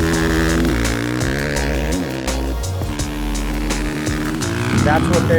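The engine of a 2019 KTM 450 SX-F Factory Edition revs hard against its launch control rev limiter, holding a loud, buzzing high-pitched drone that rises and falls as the limiter cuts in.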